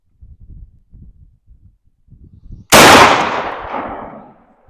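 A single 12 gauge shotgun slug shot cracks out loud and close, its sharp blast decaying over about two seconds after a few soft shuffling and handling noises.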